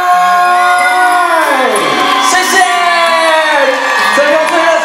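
A loud concert crowd screams, whoops and cheers without pause to welcome a classic Taiwanese singer on stage in Luzhu, Taoyuan. High-pitched shouts and sustained cheering fill the whole stretch, with a voice amplified over the din.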